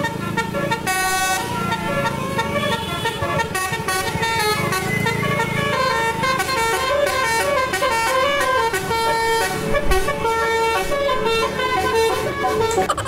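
A basuri musical horn mounted low on a modified Jetbus 5 bus plays a loud, close, rapid tune of shifting tones that runs almost continuously, with an engine rumbling beneath.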